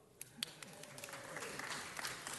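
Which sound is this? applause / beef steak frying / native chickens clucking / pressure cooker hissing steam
applause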